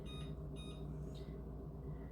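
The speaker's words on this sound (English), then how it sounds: "let me get the timer going" A kitchen timer is set for a chicken and noodle casserole with a few quiet electronic beeps, two close together near the start and then one more, over a steady low hum of kitchen background.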